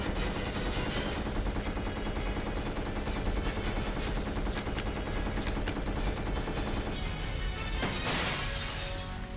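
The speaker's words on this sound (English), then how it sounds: "we get attacked from above by gunfire" Rapid gunfire rains down from above during a courtyard ambush in the video game Resident Evil 4 Remake. Dense automatic bursts and sharp cracks run continuously at high volume, ending in a louder crash of impacts.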